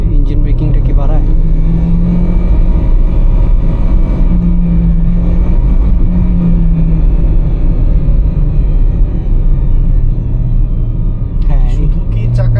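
Interior drone of a 2009 Toyota Allion sedan on the move, with a steady low engine and road rumble throughout, loud and close, while people talk over it.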